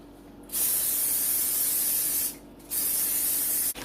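Two sustained bursts of cooking spray hiss loudly into 8-inch cake pans, separated by a brief pause, followed by a soft click at the end.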